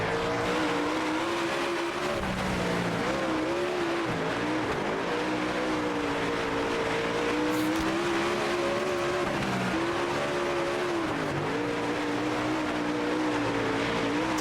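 A sprint car in World of Outlaws 24 drones steadily, its engine rising and falling through the corners in a continuous, fairly loud whine, with a tire squeal in places and no talk.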